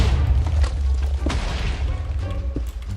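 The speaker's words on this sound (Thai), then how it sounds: "มันระเบิดตรงไหนวะกูอยากรู้" A loud, deep TNT explosion in Minecraft booms and rumbles through, followed by a heavy low-frequency roll and a few scattered thuds and crashes.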